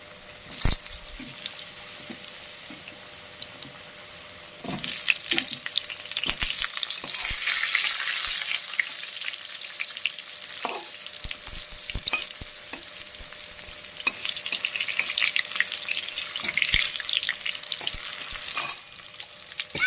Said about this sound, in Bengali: এবার আলুগুলো ভেজে নেব, বড় বড় করে লম্বা লম্বা করে আলু কেটে নিয়েছি, আলুগুলো আমি ভেজে নেব